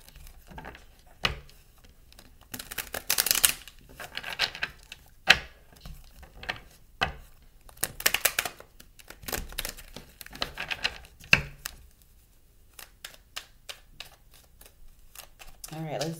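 Tarot cards are shuffled in several soft, papery riffling bursts separated by pauses, close and fairly quiet, with light ticks and crinkles in between.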